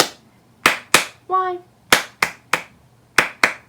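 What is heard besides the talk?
children clapping along to a dragon story song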